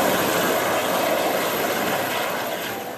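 Navy relief helicopters from an air station flying over flood-hit Kottayam and Idukki, a steady, loud rotor and engine drone that holds throughout and fades slightly at the end.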